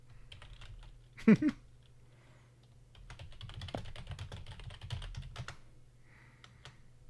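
Computer keyboard typing during a podcast, light rapid key clatter in bursts, quiet and close, with a faint voice now and then.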